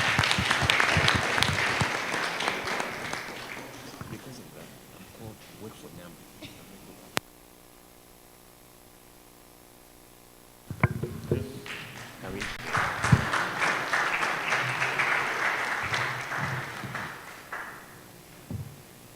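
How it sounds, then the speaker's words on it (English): Audience applause for the panelists at a 2021 World Architecture Day event, a sustained burst of clapping that drops out midway to near silence, then resumes just as loudly. "Please, a round of applause for our panelists."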